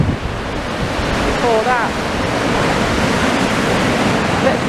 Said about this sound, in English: these boppy waves. Completely covering the lower prom